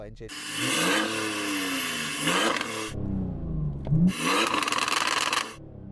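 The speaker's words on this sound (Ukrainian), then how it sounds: "То що може цей дизельний двигун?" A BMW 430d with a tuned diesel engine revs hard in two long bursts, the roaring, raspy exhaust loud and close with a brief idle lull between.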